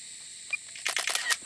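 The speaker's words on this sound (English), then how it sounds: "So I've taken 3 photos now." The camera on a DJI Mavic Air 2 drone takes three bracketed photos, heard as a quick faint cluster of soft shutter clicks close by in a quiet setting.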